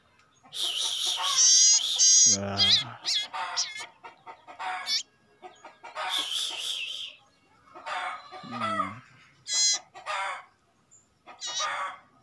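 Young Aceh common iora chicks, being hand-fed, give bursts of shrill, chirping calls close by, repeated in short eager clusters separated by brief pauses.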